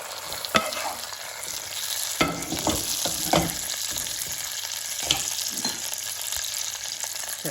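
Pork belly sizzling and frying in a pot as it is stirred, a steady crackle with sharp scraping knocks of the spoon against the pot at intervals, no talking.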